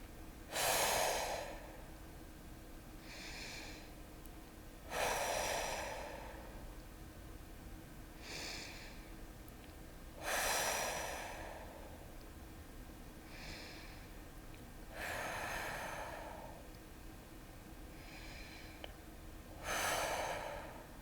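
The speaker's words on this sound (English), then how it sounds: "Today, let's practice taking 5 complete breaths." Slow, deep breaths from a breathing exercise, taken in and out in a steady cycle about every five seconds, each one an airy rush that swells and fades, close and clear with no talking.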